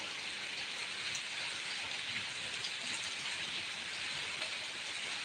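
Steady rain falls throughout, a dense, even hiss of drops striking surfaces with no letup, fairly loud and close, with no voices over it.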